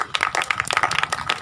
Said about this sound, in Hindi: सब ताली बजाइए इसके लिए।